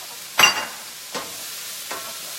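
Garlic heating in a pan makes three brief, close sizzling bursts: a strong one followed by two fainter ones, spaced under a second apart over a quiet background.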